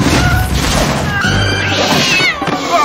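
Demonic cat creatures in the Korean fantasy film Alienoid let out loud, drawn-out yowls and caterwauling cries over a dense, noisy action soundtrack with crashing movement.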